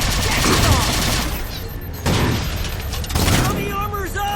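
Gunfire and railgun blasts in the video game Halo 4, with heavy sustained fusillades and booming impacts, loud and close, while soldiers shout over the battle.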